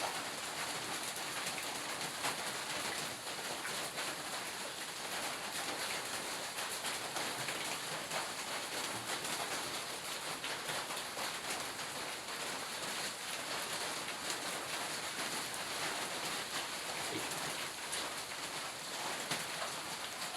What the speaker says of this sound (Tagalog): Tapos ang lakas ng ulan dito guys sa amin guys. Walang hinto ang ulan